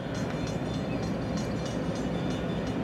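CSX freight train F767 led by Dash 9 locomotive 9005 passing, a steady loud rumble of wheels and cars with no pauses and no voices.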